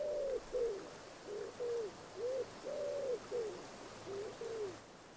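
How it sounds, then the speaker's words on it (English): Wood pigeons call from the banks of a river in Sicily, a series of soft, clear cooing notes in a rhythmic phrase, fairly close, over a quiet background of flowing water. "Wood pigeons are widespread on the banks of the river."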